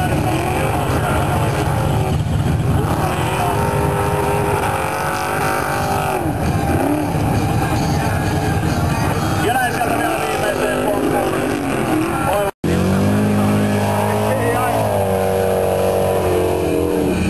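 A powerful V8-engined car at a 2009 car event in Kangasala, Finland, a loud, sustained rumble with revs rising and falling, cutting out briefly near the end. Someone commentates over it.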